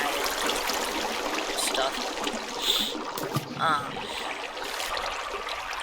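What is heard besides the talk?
waterfall in video game Minecraft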